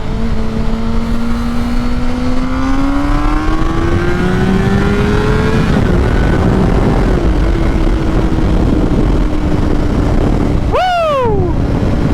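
A 2008 Honda CBR600RR sport motorcycle engine revs and climbs steadily through the gears, loud and close with rising whine, then sweeps through a sharp high rev near the end before dropping back.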